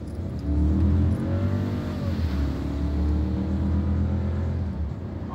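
A Volkswagen Polo 200 TSI running on petrol accelerates uphill to about 70 km/h, its engine note climbing steadily in pitch, loud and close throughout.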